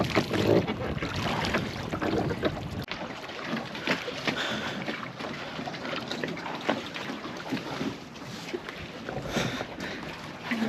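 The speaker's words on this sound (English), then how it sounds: "And the man does the rowing." A man rows a rowboat on a choppy lake in Slovenia, with splashing water, oar strokes and gusts of wind buffeting the microphone close by.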